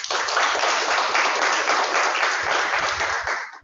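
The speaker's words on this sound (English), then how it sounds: "Let's give the round of applause." Members at a Toastmasters club meeting in Pune give a round of applause: dense, sustained clapping from a small group, loud and steady, fading off at the end.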